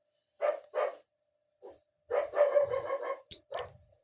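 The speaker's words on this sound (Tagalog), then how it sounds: "Ayan na ingay na aso." A dog barks nearby in short bursts: two quick barks, a lone yip, then a rapid cluster of barks and yelps, with silence between.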